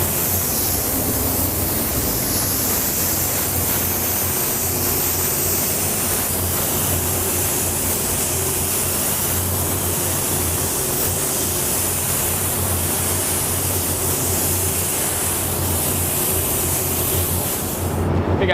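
A spray gun lays down a regular base coat of automotive paint with 50% overlap inside a spray booth, giving a loud, steady hiss that runs unbroken for about eighteen seconds over a low constant booth hum.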